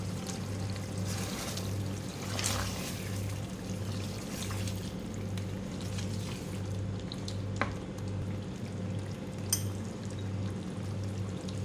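Chicken masala with yogurt frying in oil in a pan, a steady low sizzle with soft bubbling and an occasional stir or clink, no talking.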